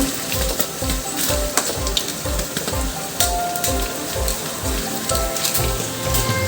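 Crispy tofu frying in oil as pieces are turned to cook the other side: a dense, loud, continuous crackling sizzle with a steady pulsing rhythm, close up and without talk.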